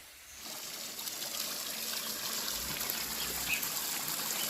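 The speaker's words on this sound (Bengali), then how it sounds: "এখানে ঝর্ণা জাতীয় রয়েছে" Steady splashing trickle of water from a fountain in Sonachhara park, Udarbond, soft and continuous, with no voices.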